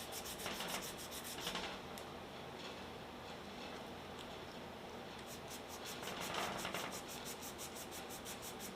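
A magazine part for a 450 Bushmaster is sanded by hand with folded 400 grit sandpaper, a soft close scratchy rubbing in quick back-and-forth bursts, quiet, with no talking.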